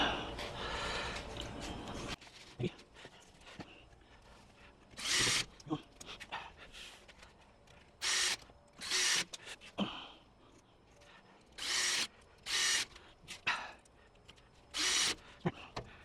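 A power screwdriver drives screws into soft wood while a catio enclosure kit is assembled, coming in short loud whirring bursts with pauses between them.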